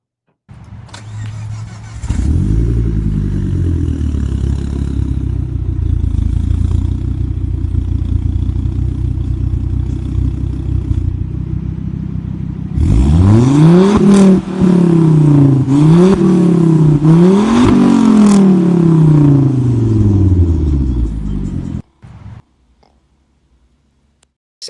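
A car with a MagnaFlow catback exhaust fires up and settles into a loud, rumbling idle. It then revs several times in sharp rising and falling bursts before shutting off abruptly near the end.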